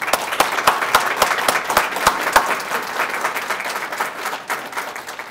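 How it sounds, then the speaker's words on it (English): Audience applause at a Martin Luther King Jr. celebration in Hoffman Estates, loud and fairly close, with several sharp distinct claps standing out early before blending into a continuous crowd clap. "Give a nice round of applause for them."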